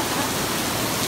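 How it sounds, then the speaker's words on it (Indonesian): Heavy rain pouring down in Jogja, a dense, loud, unbroken wash of falling water close by. "tetapi hari ini hujan deras di Jogja"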